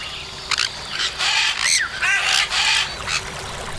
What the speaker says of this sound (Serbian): Kakav zvuk stvara papagaj?